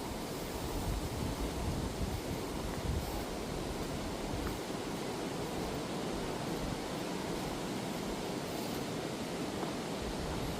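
Steady wind roars through a cold, overcast rainforest, a constant broadband rush with gusty low buffeting against the microphone and no other clear sounds.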